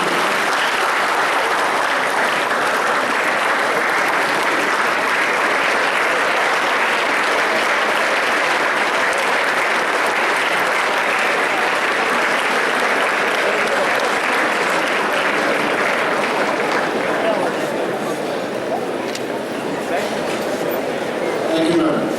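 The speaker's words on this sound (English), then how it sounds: "thank all of them by rising to join me in giving them a standing" A convocation audience gives a standing ovation, and the sustained applause stays loud and dense for the whole stretch. It is the dense clapping of a large crowd in a hall, easing only slightly near the end, with no speech.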